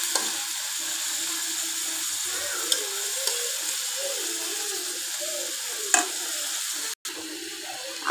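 Chopped, peeled tomatoes dropped into a pan of frying okra in a home Bangladeshi kitchen, giving a loud, steady sizzle with a few light clinks and a brief pause near the end, alone without talk.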